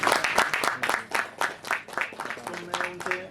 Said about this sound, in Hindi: भाभी के लिए जोरदार तालियां